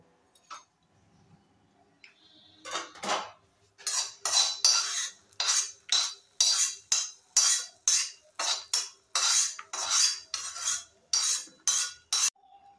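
A spoon stirs payesh with fried cashews and raisins in a pot, giving a brisk run of sharp metallic clinks and scrapes against the vessel in a steady rhythm, close and without talk.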